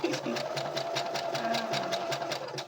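A sewing machine stitches a hair bonnet nearby with a fast, steady, rhythmic whirring patter that runs unbroken and fairly loud throughout.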